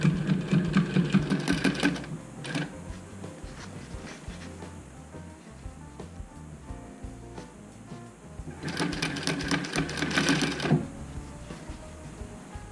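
Sewing machine stitching fabric and bias binding for a face mask, two rapid mechanical bursts of clattering stitches at the start and near the end, with quieter handling of cloth between them.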